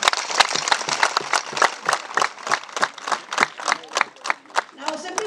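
Applause from the audience at a Bugesera community work day (Umuganda) gathering, with distinct handclaps in a brisk uneven rhythm that rise and fall in bursts, loud and close, and some voices mixed in.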